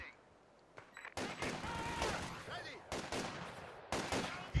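Bursts of gunfire in the Company of Heroes 2 strategy game, including light machine gun fire, with repeated sharp volleys and rattling fire under a commentator's talk.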